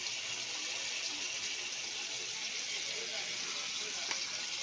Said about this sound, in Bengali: কেওড়া গোলাপ জল দিলাম।